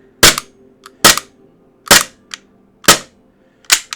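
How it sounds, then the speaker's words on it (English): A KJWorks G23 plastic gas airsoft pistol fired on full green gas, five loud, sharp, snappy shots at a steady pace, each with a quick slide-cycle click, close and alone without talk. "Got a very snappy cycle to it, as you'd expect out of a plastic gas pistol, and that is running on full green gas"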